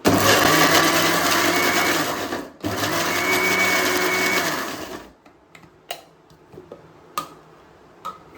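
A mixer grinder blends carrots with milk for carrot kheer, roaring loud and steady for about five seconds with a short break partway through. It then stops, leaving quiet, scattered clicks and knocks.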